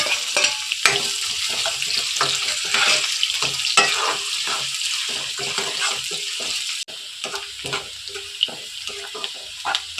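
Finely chopped onion dropped into hot oil and frying in a pan, a close, crackling sizzle with clattering stirring strokes that keep on through the whole stretch, which turns a little quieter near the end; no talking.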